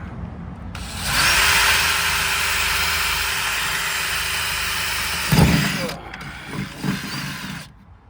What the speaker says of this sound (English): This drill bit is so dull from drilling through metal over the past couple days.